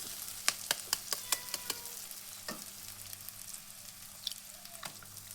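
An egg cracked into a hot pan for egg rice, giving a steady frying sizzle with a quick run of sharp taps and clicks at the start and a few later knocks, close and fairly quiet with no talk.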